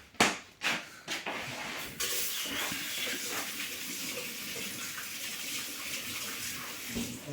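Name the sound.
washing a pumpkin under running water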